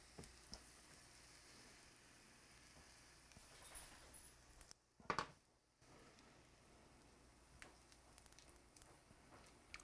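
Bacon-fried s'mores treats sizzling in a pan of bacon fat, a faint steady crackle with a brief louder splutter and swirl partway through, then quiet frying continues.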